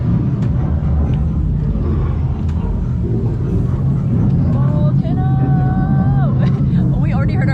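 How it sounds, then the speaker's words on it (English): Simulated thunder at a three-story Rainforest Cafe in San Antonio, a loud, continuous low rumble that fills the room, with some high tonal chirps and voices rising over it near the end. "We already heard our first thunder."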